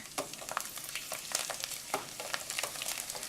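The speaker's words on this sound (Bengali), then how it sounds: "তাই হালকা গরম হলেই রসুনের কোয়াটা দিয়ে দিতে হবে।" Garlic cloves frying in warm oil as a faint, gentle sizzle with scattered soft crackles and pops, heard alone.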